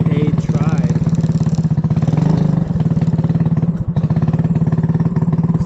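A 250cc go-kart engine runs steadily at a fast, rattling idle close to the mic, with a brief rise in revs partway through and an even mechanical chatter throughout.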